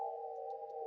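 Synthesized sine wave tones from an EEG-driven sound setup in a 3D printed mask, a steady faint pure hum holding one pitch, with a few soft brief blips above it.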